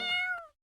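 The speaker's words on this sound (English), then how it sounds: "the cat meows." A single cat meow, clear and close, a drawn-out tonal cry lasting about half a second before cutting to silence.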